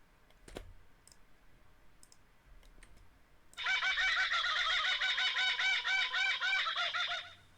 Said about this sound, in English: The kookaburra is a small bird that lives only in Australia. Its loud laughing call can be heard early in the morning and late in the afternoon.